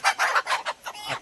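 Free-range country chickens on a poultry farm clucking in a quick run of short, close bursts, fairly loud and with no talk over them.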